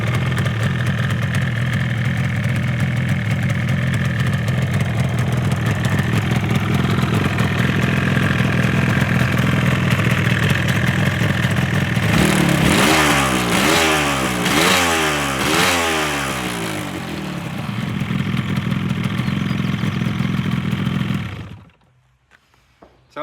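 A restored 1981 Yamaha RD350LC two-stroke motorcycle idles steadily and loudly, then revs up several times in quick rising and falling bursts before settling and cutting off near the end, with no talking.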